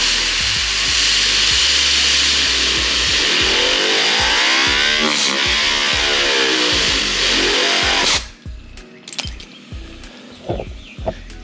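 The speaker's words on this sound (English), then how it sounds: "Once the pad starts gumming up here, I like to take the air hose" Compressed air from an air hose blasts into a gummed-up polishing pad, a loud, steady broadband hiss lasting about eight seconds before cutting off abruptly, followed by quieter handling clicks and knocks.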